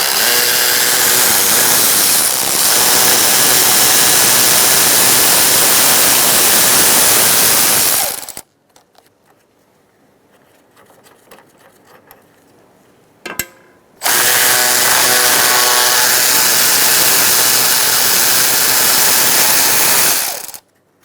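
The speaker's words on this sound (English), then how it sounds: "Using a 13mm socket, I'm going to take out the two top bolts for the radiator." A 13mm socket on a power tool works the top radiator bolts loose on a 2007-2017 Ford Expedition 5.4L V8, a loud sustained mechanical whir for several seconds, a quiet pause with a clack, then another long whirring run.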